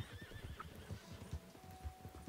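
A horse in Red Dead Redemption 2 gives a high whinny over steady hoof clip-clops, a trotting rhythm that runs through the whole clip at a quiet, moderate distance.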